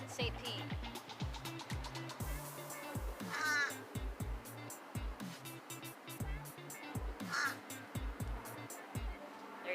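A bird answers with a couple of harsh, crow-like squawks that rise above a steady rhythmic clicking and rattling background.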